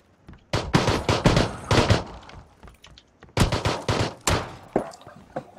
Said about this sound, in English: the revolver apparently has the slowest fire speed in the game